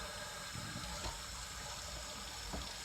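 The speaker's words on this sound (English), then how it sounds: "get some lukewarm water, not real cold, not real hot, just kind of room temperature water, and I'm going to fill it up just over the copper" Lukewarm tap water pouring steadily into a container to fill it just over copper pieces, a continuous close splashing rush with no talk over it.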